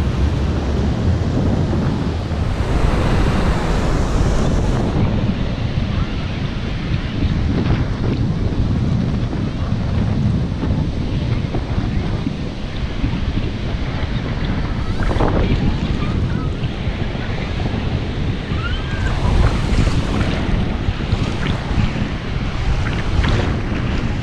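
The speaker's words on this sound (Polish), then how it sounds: "duże fale, fajnie by się tutaj surfowało" Big ocean waves breaking and rushing on a beach in Vietnam, a loud continuous roar of surf with heavy wind buffeting the microphone throughout, no speech.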